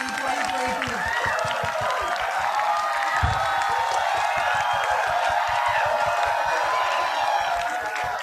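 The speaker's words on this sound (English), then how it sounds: "Can we have a huge round of applause for all our conferred graduating batch of" Sustained applause and crowd noise at a convocation ceremony for a graduating PGDM batch, continuous and fairly loud with a tonal musical layer running underneath.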